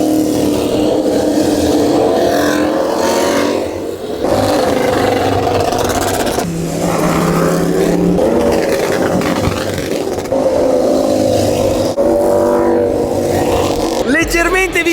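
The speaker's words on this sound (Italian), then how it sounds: "Come potete sentire sta girando la MotoGP, già sta andando fortissimo" MotoGP motorcycles circle a racetrack, their engines rising and falling in continuous revving waves that rise and fade as bikes pass, with a person talking over the racket.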